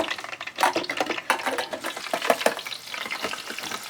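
Sweet plantains sizzling and crackling in a hot pan with stirring and scraping, irregular popping bursts up close, no talking.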